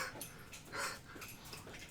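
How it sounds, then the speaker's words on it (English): A puppy whimpers and yips softly in a few short, high-pitched bursts, close by and moderately quiet, with no talking over it. "Hi, cutie puppy."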